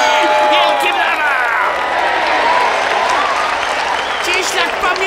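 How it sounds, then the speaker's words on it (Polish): A crowd claps and cheers loudly as fighters enter the octagon at an amateur fighting event. The applause is dense and continuous, with an announcer's voice talking over it. "Wielkie brawa!"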